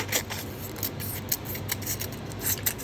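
Scissors slice steadily through a sheet of paper for a paper-cone craft, a close, continuous crisp snipping and rustling with quick repeated cuts and no voices.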